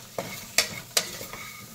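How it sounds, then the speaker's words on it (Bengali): A spoon scrapes ground spices around a hot pan for Bengali khichdi, giving four quick sizzling strokes at a steady pace, close up and with no voices. "গুঁড়ো মশলা দিয়ে একটু নাড়াচাড়া করে নিয়ে"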